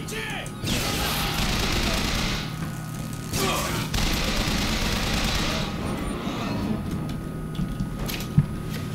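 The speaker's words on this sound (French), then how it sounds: "Il est où le pélo qui me tire dessus là?" Bioshock Infinite video game gunfire aimed at the player, a dense, loud clatter of shots and impacts in irregular bursts over game noise, with a faint spike of a thud near the end.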